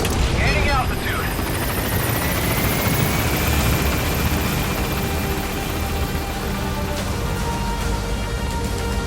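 Helicopter in the Metal Gear Solid V video game climbing away, its loud steady rotor and engine roar filling the whole clip, with faint whining tones layered on top.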